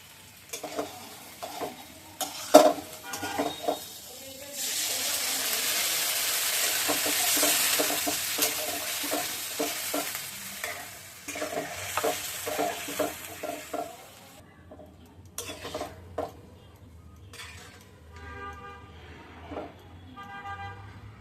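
Fish sizzles and fries in a pan in a home kitchen, with intermittent stirring scrapes and a stretch of louder sizzling after water is added, while traffic and horns sound faintly outside.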